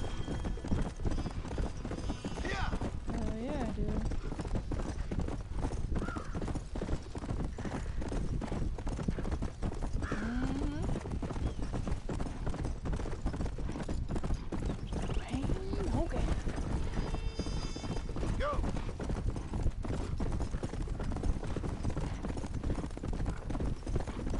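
Horse hooves clip-clop steadily in the video game Red Dead Redemption, with occasional whinnies and neighs over a constant noisy bed, continuing throughout.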